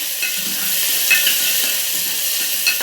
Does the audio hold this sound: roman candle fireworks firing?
no